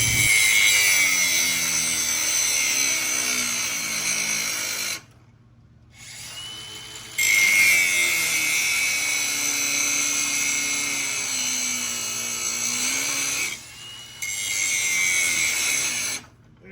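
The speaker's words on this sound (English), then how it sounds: "That's going to allow us to move the belt out of the way and get in there and grind that nut off." Angle grinder cutting off a bolt on the steering of a Troy-Bilt riding mower, a loud high-pitched whine broken by two short pauses, pitch dipping and rising as it bites the metal.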